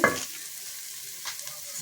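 Ingredients sauté in a pan for a banana-flower fish curry, opening with a brief scraping stir and then settling into a soft, even sizzle close by.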